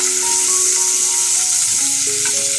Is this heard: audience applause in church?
no